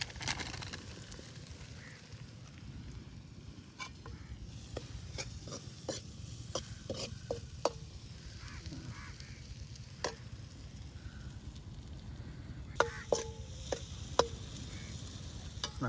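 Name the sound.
crab frying and being stirred in a pan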